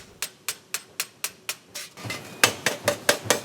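A worker hand-hammers a one-piece brass saxophone bell made from a single soldered sheet in a Yamaha factory, giving a steady run of evenly spaced, ringing metallic strikes that grow louder and more resonant partway through.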